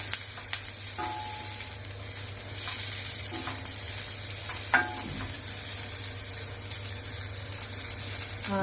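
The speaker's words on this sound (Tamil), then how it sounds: "கருவேப்பிலை கொஞ்சம் நல்லா வதங்கட்டும்" Curry leaves frying in a pan for Tirunelveli sodhi kulambu, a steady close sizzle with occasional stirring scrapes and light clinks throughout, no voices.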